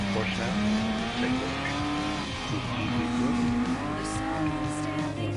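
A Porsche race car in a racing video game holds a steady, droning engine note that rises slowly, with tire noise around it, and a player talks underneath.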